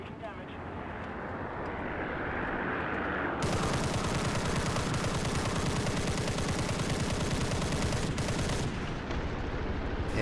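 Fifty-caliber machine guns in the War Thunder aircraft game, rapid continuous bursts over droning engine noise, loud and sustained with a brief gap near the end, under a man's speech.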